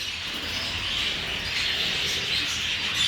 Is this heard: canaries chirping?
yes